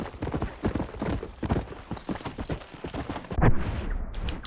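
Horse hooves clip-clop in a steady, rhythmic walking pattern in the video game Red Dead Redemption, moderately close and fairly quiet, alone with no talking.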